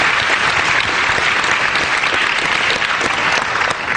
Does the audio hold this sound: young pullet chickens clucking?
no